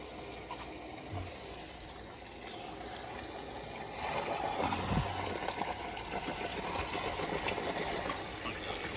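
Water drains by gravity from filling containers, a steady trickle and flow that grows louder and fuller partway through, with a faint murmur of voices in the background.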